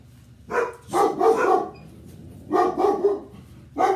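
A German Shepherd barks in three loud, close bursts, each a quick cluster of several barks, with short quiet gaps between them and no talking.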